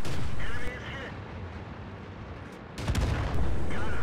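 Cannon fire from tanks in a World of Tanks battle on the Malinovka map, heard as loud booming shots near the start and again toward the end over a dense, rumbling battle background.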